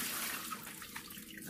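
Water drains out of a jar of soaked bean sprouts as a steady, close rushing pour that runs unbroken for the whole moment.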